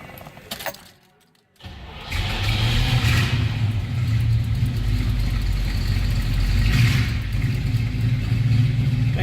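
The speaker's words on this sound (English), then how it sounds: "Let's go ahead and fire it up. Also very nice running and sounding car." A 1970 Chevrolet Nova engine cranks and catches after a jingle of keys, then settles into a loud, steady low rumble close by.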